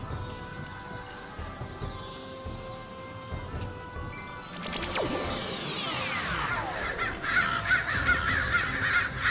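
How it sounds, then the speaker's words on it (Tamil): A crow caws out in the open, its calls ringing clearly against a steady background hum, with a sweeping whoosh partway through. "இந்த காக்கா என்ன ஃபாலோ பண்றதை நிறுத்தவே மாட்டேங்குது."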